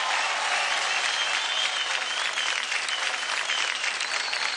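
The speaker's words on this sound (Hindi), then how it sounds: "तो मैं चाहूंगा कि जोरदार तालियों से दोनों का स्वागत किया जाए।" A studio audience at a televised dance show cheers two dancers onto the stage with loud, dense, continuous clapping that holds steady for several seconds.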